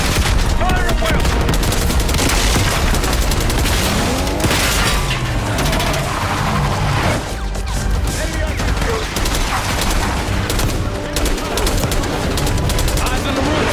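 Gunfire volley in the video game Call of Duty: Black Ops 6, a dense, loud and continuous barrage of rapid shots and booming blasts during an assault on a palace gate, with voices shouting underneath.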